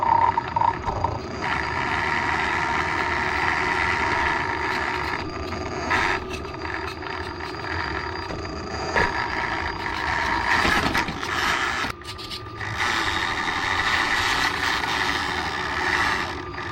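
An RC Land Rover Defender MN99s scale truck upgraded with a brushless motor drives steadily, giving a continuous motor whine with drivetrain rattle and a few brief bumps and surges, close and fairly loud throughout.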